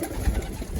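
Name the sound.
racing pigeons cooing in the loft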